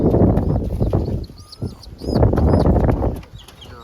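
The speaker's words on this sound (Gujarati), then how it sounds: "બીજા કબૂતર બાકી છે" Pigeons flutter their wings in two loud bursts close by, with soft cooing and chirps in between.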